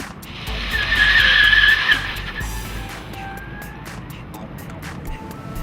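Compressed-air Mini Cooper driving off, a close whoosh and tire squeal swelling for a couple of seconds, then easing into a quieter rolling hum with faint clicks.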